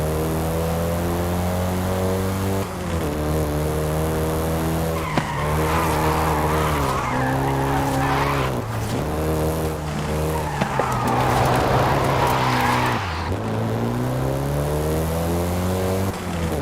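A VW Golf GTI in Forza Horizon 5 drives hard, and its engine drones steadily under repeated tire squeals and skids as it slides through corners. The engine revs dip briefly between slides.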